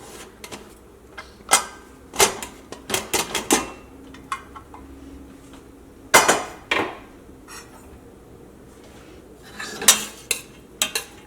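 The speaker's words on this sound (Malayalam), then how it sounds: "ഇനി നമുക്ക് കുക്കറൊന്ന് തുറന്ന് നോക്കാം" A pressure cooker holding cooked lentils is opened once its steam has escaped. Sharp metallic clanks and clicks of lid and vessel come close by in scattered clusters, with quiet gaps between them and no talking.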